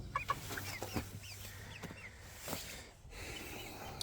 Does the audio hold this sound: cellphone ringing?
no